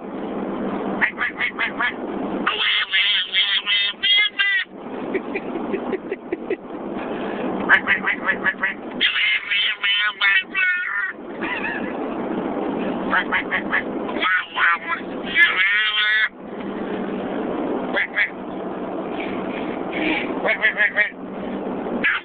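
A child imitates a duck with a long, continuous stream of loud, raspy quacking noises, close to the microphone, in bursts with only brief pauses.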